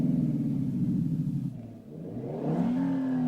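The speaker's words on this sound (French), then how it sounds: "on peut personnaliser le son du moteur perçu dans l'habitacle" A synthesized motorcycle engine sound played inside a car cabin, a steady droning hum that dips, then climbs in pitch as if revving, with a rumbling low end.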